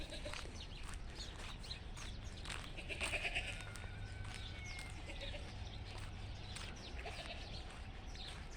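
Goats bleat repeatedly in a goat pen, with several overlapping calls at moderate distance over steady outdoor background noise, and faint bird sounds mixed in.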